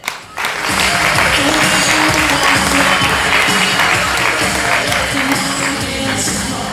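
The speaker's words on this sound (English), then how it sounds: "Please, a big round of applause for Vinod Khosla" Sustained audience applause from a large crowd at a business talk, as a venture capitalist founder is welcomed on stage; dense, steady clapping starts abruptly after a brief pause and continues loud and even throughout with some crowd noise mixed in.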